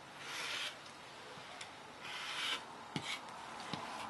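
Rotary cutter strokes slice through quilting fabric along a square ruler, soft rasping swipes in short bursts with faint clicks, quiet and close.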